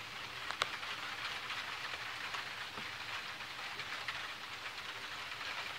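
Downpour in a Crestline, California thunderstorm: a continuous loud hiss of heavy rain with scattered sharper drip and splash accents, no talking.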